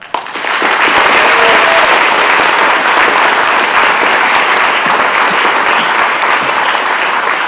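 An auditorium audience at a Veterans Day ceremony applauds to welcome a speaker, steady loud clapping from many hands that starts abruptly and holds throughout.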